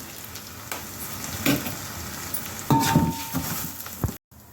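Moong dal goes into a pan of ginger frying in oil, a close steady sizzle that swells with clattering bursts as the lentils land, then cuts off abruptly.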